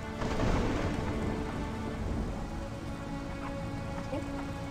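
Steady video-game rain pours down in a dense, even hiss, with a low rumbling undertone throughout.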